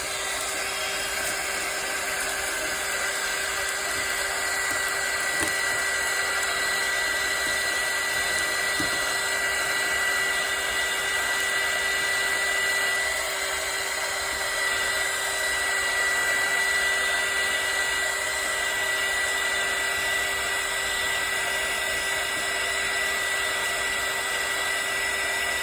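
A heat blower shrinks plastic wrap onto homemade bath bombs, giving a steady, continuous whirring hiss with a high whine that runs unbroken and fairly close, with no talk over it.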